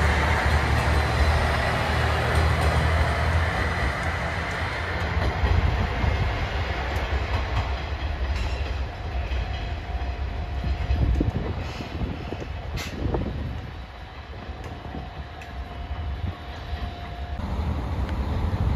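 A JR Shikoku 1500 series diesel railcar moves through the station in snowy conditions, a loud continuous engine rumble and rolling rail noise lasting throughout and easing slightly toward the end.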